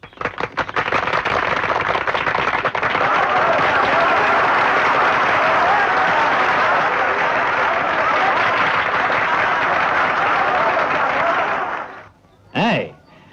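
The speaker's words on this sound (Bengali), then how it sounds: "হাততালি।" Applause from a crowd at a village speech, dense steady clapping that fills the space for about twelve seconds before cutting off, followed by a brief voice.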